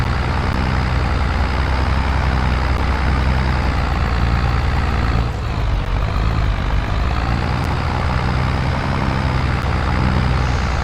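A slow tractor engine drones steadily in Farming Simulator 22, a loud, constant low rumble throughout with a brief dip midway.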